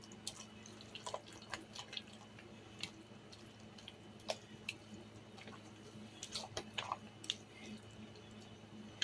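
Chicken macaroni salad being mixed in a bowl, giving soft wet squishing and clicking sounds in an irregular rhythm, close and fairly quiet, with no talking.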